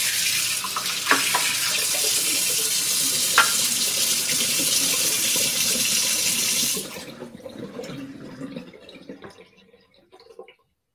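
Water runs steadily from a faucet into a sink for about seven seconds, a loud broad hiss, then cuts off leaving faint drips and trickles fading into quiet.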